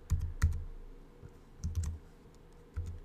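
Fingers tap out a website name on a computer keyboard in two short bursts of keystrokes with quiet pauses between, each press a close, crisp click.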